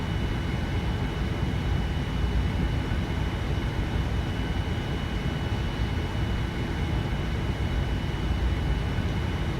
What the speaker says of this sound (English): This is a powerful plane, so it's just picking up speed even in idle here on the ground